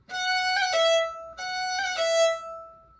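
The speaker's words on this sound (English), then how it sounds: "kind of a waterfall-y ornament" A bowed string instrument plays the same short jig phrase twice, each with a quick cascading waterfall ornament before a held note, bright and close.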